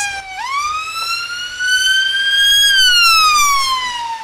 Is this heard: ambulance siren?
yes